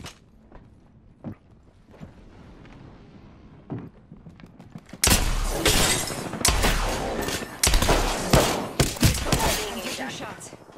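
Video game gunfire erupts in a dense, loud burst of rapid cracks and shattering impacts after several quieter thumps and footsteps, with voices speaking over the action.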